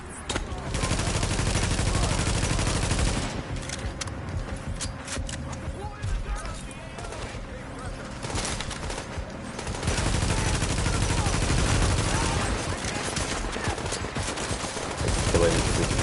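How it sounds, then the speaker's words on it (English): An automated turret in The Division fires in long, dense bursts of rapid gunfire that pause briefly midway and then resume, loud and continuous, with a voice talking now and then over the shooting. "This turret should start shooting the rest of them now."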